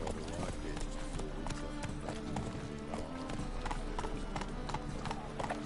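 Horse hooves gallop in a steady, fast clip-clop rhythm within The Witcher 3 video game, continuous and fairly close, with game ambience and voices layered underneath.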